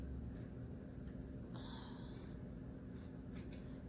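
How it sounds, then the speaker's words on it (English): Scissors snip thread on a sewn sublimation-printed custom face mask, with several short, crisp cuts spaced apart over a steady low hum, close to the microphone. "Just make sure you're not cutting through your thread."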